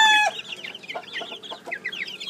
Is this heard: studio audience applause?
no